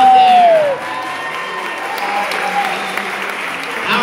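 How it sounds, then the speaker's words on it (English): An audience applauds and cheers at the 2015 Hollywood Open gymnastics meet, broad steady clapping filling the room for several seconds, with a brief tone at the start and faint voices mixed in. "A big round of applause."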